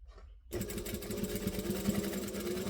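A sewing machine stitches across fabric. It starts after a short silence, then runs with a steady, close mechanical whir and a rapid needle chatter.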